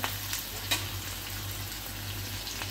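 Crushed green chillies frying in hot oil for a fasting-day dish, a steady close sizzle with a couple of brief spatters near the start.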